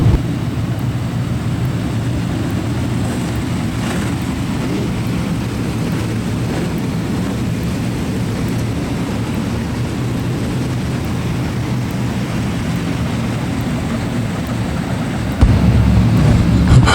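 Sprint cars in a track championship A-Main at Brisbane Speedway roll around in a pack behind the pace vehicle, a steady low engine drone that holds throughout and swells louder near the end.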